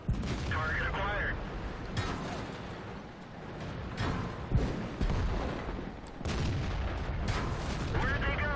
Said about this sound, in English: A lot of people are shooting at me.